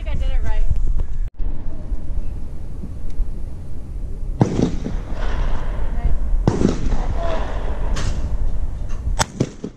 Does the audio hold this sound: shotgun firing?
yes